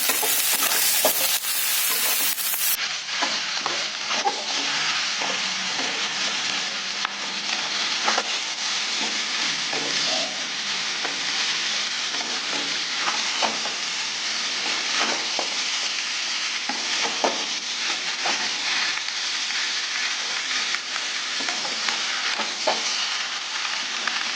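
Mixed vegetables, including ridge gourd, fry in an oil-filled kadai for a vegetarian dish with lentil fritters, giving a steady, close sizzle with bursts of stirring throughout and no talking.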